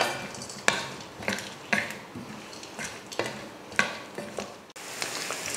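Small cut pieces of bitter gourd frying in oil in a kadai, soft sizzling under repeated scraping and clinking of a spatula stirring at a steady pace.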